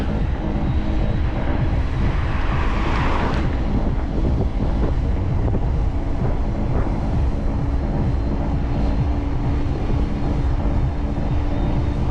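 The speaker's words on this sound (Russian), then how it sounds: "ветер" Strong seaside wind at Sirius near Adler, Sochi, in December, buffeting the microphone with a constant low rumbling roar and gusty surges, no voices.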